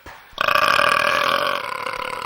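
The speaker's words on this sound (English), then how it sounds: "in unison burped a day-old meaty burp" A long, loud, close burp that starts abruptly and drags on with a croaky, tonal rumble for about two seconds.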